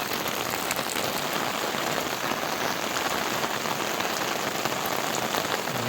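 Steady, heavy rain hissing down on surfaces in a misty hill village, an unbroken dense patter with no voices.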